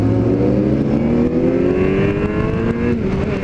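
Motorcycles ride past on a road to a winery in São Roque, a loud continuous engine drone with rising and falling pitch as several bikes roll by close together.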